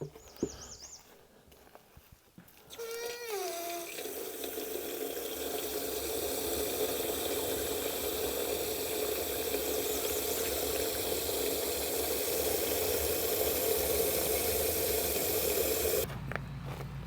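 A water container for a van kit filling from a tap, with a brief handling clatter, then a strong, steady hissing gush that runs for over ten seconds before stopping.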